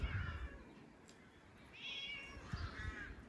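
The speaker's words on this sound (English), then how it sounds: "there it's her cat, a black one" A black cat meows a few times inside a village house, drawn-out calls spaced over a few seconds against faint low background noise, close but quiet.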